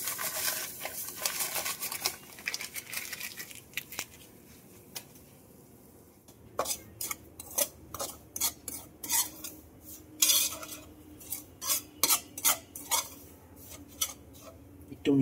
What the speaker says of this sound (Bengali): ঘিটা একটু গরম হয়ে এসছে, সুজিটা পুরোটা ভেজে নেব।